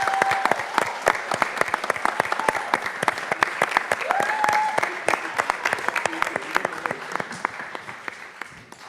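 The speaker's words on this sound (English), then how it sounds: "Please join me in giving a big round of applause to Jar Saeed." Conference audience applauding a guest speaker at a pharmacy student event, sustained steady clapping from a roomful of people for several seconds, with a faint tone briefly audible underneath.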